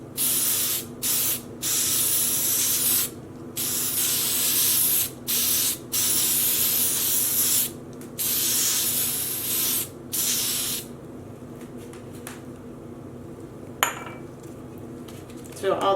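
Short bursts of a spray nozzle misting Wilton food coloring dye onto a knitted sock blank, repeated hissy sprays in an irregular rhythm with brief gaps, close and fairly loud, then a quieter stretch with faint clinks.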